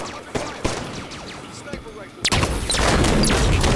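A rocket launcher fires in the Halo 5 video game amid rapid gunfire, with crackling shots early on and a sudden, much louder, dense burst of blasts and rumble halfway through that continues to the end.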